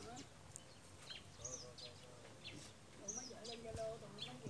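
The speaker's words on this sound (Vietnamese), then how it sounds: "Để nghe các cái tiếng chim hót nha các bạn." Birds chirp and sing in short scattered phrases over open rice fields, faint and somewhat distant against a soft outdoor hush, with a voice briefly audible.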